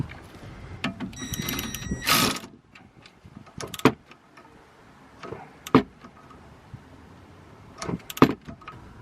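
A wrench tightens a 13 mm nut on a car's rear brake during a brake upgrade, giving a few short metallic clicks and ratcheting bursts up close amid quiet workshop handling noises.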